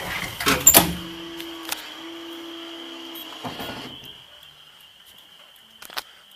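A school bus door, on a Blue Bird TC2000 bus, opens with a sharp mechanical clunk and whoosh followed by a steady buzzing tone from the door switch and lights, fairly close and without talk.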